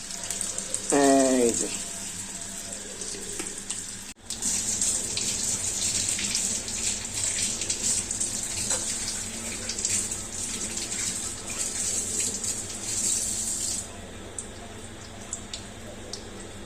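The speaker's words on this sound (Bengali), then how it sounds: "তো এখন এটার মধ্যে মূলত পিঠাটা ঢালবো।" Pitha batter poured into the jar of a Philips 1200-watt blender, a continuous liquid gush running for most of the stretch, with a short spoken phrase near the start.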